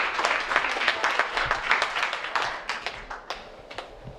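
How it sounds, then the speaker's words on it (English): Scattered audience applause at an evening meeting of a cannabis-policy group in New York, thin and uneven claps that taper off, fairly quiet with little talk. "Give yourselves a round of applause"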